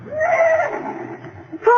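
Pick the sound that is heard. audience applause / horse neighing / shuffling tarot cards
horse neighing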